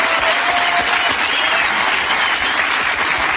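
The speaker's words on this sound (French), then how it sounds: "Donc vous applaudissez bien fort, s'il vous plaît." Loud, dense applause from a theater audience for a performer named Juliette on her final night, continuous clapping from a large crowd throughout.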